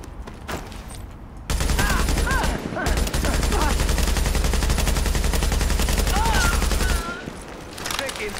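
A sustained burst of automatic gunfire from the video game Tom Clancy's The Division hammers close and loud for several seconds. Scattered single shots come before and after it, and voices are heard underneath.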